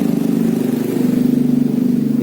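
Honda Vario 110 scooter engine with a carburetor idling close up, a loud, steady low thrum with a regular pulsing beat throughout.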